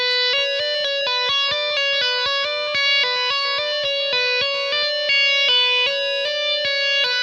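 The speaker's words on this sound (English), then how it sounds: "So this is what I like to do with distortion." Electric guitar with a gritty distorted tone plays a steady, repeating run of picked notes, sustained and ringing, with no voices.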